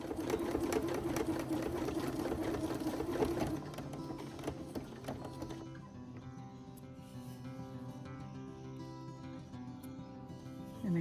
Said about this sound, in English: I've got the correct settings on my sewing machine. I'm just going to press the foot pedal